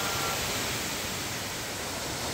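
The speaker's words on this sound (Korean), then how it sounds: "저 뒤에 보이는 폭포가 수옥정 폭포입니다." Suokjeong waterfall in a scenic mountain valley, a steady broadband rush of falling water that holds evenly loud throughout, with no voices.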